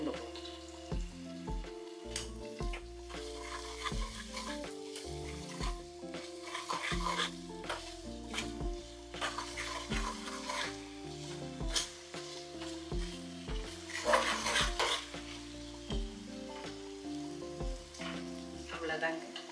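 Spice powders sauté in oil for a tamarind kuzhambu with green turkey berries, a continuous sizzle with repeated stirring and light utensil clinks, over a low steady tonal backing.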